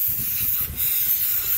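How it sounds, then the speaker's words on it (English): Brake cleaner sprayed from an aerosol can onto a stiff steering spindle of a garden or compact tractor: a close, steady hiss that runs through the whole moment with a short dip partway, and no talking. "This I'll just clean up with some brake clean"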